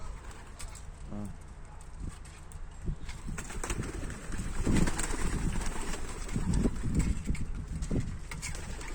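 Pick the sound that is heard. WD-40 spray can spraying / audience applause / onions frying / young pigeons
young pigeons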